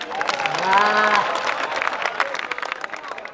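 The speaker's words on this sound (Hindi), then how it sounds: "गीत खत्म हो गया, तालियां बजाइए।" An audience at a Hindi poetry gathering (kavi sammelan) breaks into applause after a poem recital. The clapping is dense and lively, and cheering voices ride over it before it thins toward the end.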